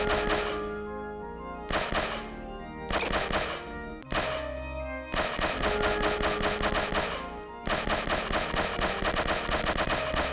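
Rapid, rhythmic pellet shots from a 3DO video game, fast repeated thunks running in bursts with short pauses between, over a looping musical backing.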